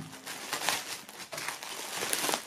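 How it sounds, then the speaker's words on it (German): Plastic film wrap crinkles and crackles as it is peeled off a band merchandise bundle holding a shirt and an album, a steady close rustling with a few sharper tearing bursts throughout. "wir machen als erstes mal die Folie ab"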